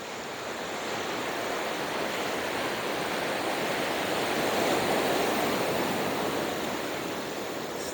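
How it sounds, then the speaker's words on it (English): Ocean waves break steadily on an El Salvador beach at high tide, a continuous close roar of surf that swells slightly in the middle and carries no voices. "Still just ripping up the waves over there."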